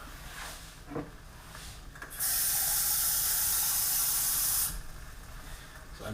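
A measured cup of water poured into a pot of crushed tomato sauce makes a steady, close rushing splash for about two and a half seconds, then stops, with no talking.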